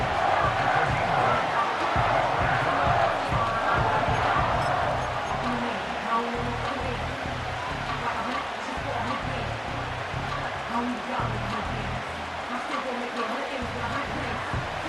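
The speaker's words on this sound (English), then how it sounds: "This crowd into it now as we get to third down." A stadium crowd roars and cheers in a Madden NFL 25 game as the Lions face the Packers heading into third down, a sustained loud din under a commentator's voice.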